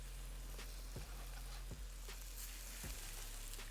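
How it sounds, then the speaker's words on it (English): Pork chops searing in oil in a hot skillet over medium-high heat, giving a steady, close crackling sizzle broken by a few soft taps and shifts. "To pan sear the pork chops, we're going to add a little bit of oil to our medium high heat skillet."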